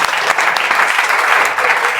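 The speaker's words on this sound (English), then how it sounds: "Obviously, please clap for him." Classroom group applauding a student after a confidence-building English speaking activity, dense loud clapping sustained for a couple of seconds with no talk over it.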